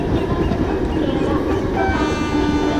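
A 12202 Garib Rath Express slows into a station in Train Simulator Classic, giving a steady, loud rumble of engine and rolling wagons that continues without break, with faint tonal hums layered over it.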